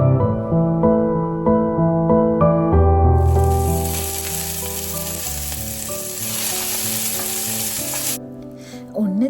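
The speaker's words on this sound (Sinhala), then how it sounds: "කරපිංචා වගේ දේවල් මෙහෙම බැදෙන්න අර ගන්නවා ටිකක් වෙලා" Curry leaves fry in a pan of hot oil, first under steady music, then a loud bright sizzle bursts in at about three seconds and holds strong until near the end, when it cuts out.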